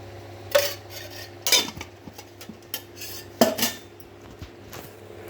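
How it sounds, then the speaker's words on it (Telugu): A spoon stirring sugar and ghee together in a pan clinks and scrapes against the metal, with several sharp taps spread unevenly over a quiet background. "ఈ విధంగా చక్కెర ఈ నెయ్యి అంతా బాగా కలిసేలా కలుపుకోవాలి"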